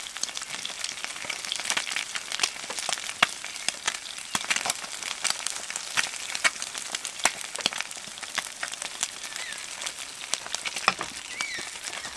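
Butter heating and sizzling in a pan at a riverside camp, a steady crackling patter with irregular sharp pops throughout, close by and with no talk.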